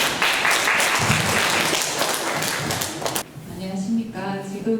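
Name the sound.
applause welcoming a speaker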